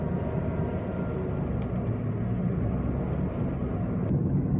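Under full throttle, the Mitsubishi Mirage G4 with its CVT gives a continuous loud, droning roar from inside the car. The engine strains at a steady pitch throughout, and no one speaks.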